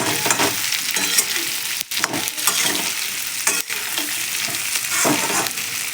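Stuffed okra frying in oil, with a steady crackling sizzle throughout, broken by several sharp scraping stirs of a spatula against the pan.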